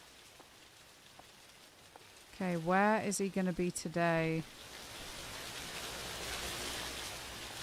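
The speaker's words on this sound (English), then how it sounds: "Why is the rain so loud?" Heavy rain in a Chilla's Art horror video game pours as a steady, loud hiss through an open window, with a person speaking briefly over it midway.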